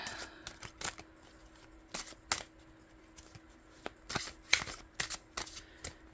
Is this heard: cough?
no